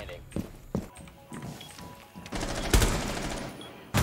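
Gunfire in the game Rainbow Six, scattered shots building into a heavier burst near the end, mixed with footsteps and with voices talking over it.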